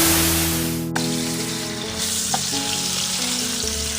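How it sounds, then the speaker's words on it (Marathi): Prawn chops shallow-fry in a little oil in a pan, a loud continuous sizzle that jumps sharply in intensity about a second in and then holds steady and bright, with no voices. "एक पॅनान थोडें तेल घालून आनी हें शॅलो फ्राय करून घेवपाचें."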